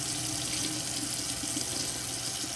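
Hot tap water runs steadily into a sink over a bar of felted soap, a loud, constant hissing stream with small splashing variations and no talking.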